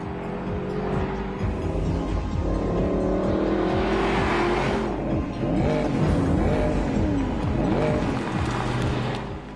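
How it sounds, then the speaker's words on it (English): A Mercedes-Benz SLS AMG with its V8 engine drives along a street. The engine is loud and sustained and rises and falls through rev sweeps and gear changes, with no talk over it. "The ecstatic, hungry sound of the motor can make passengers feel giddy."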